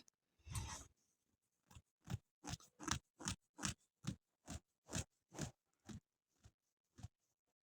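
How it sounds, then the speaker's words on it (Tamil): Spicy chicken gravy boils thickly in a pot, throwing up a steady run of about a dozen soft, close popping bursts as bubbles break, with short quiet gaps between them and no talking. "இப்போ பார்த்தீங்கன்னா நல்லா கொதிச்சு வருது"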